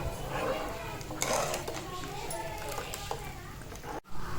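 A spoon scrapes and clinks against a pot as raw mango curry is stirred, with faint voices and kitchen clatter behind.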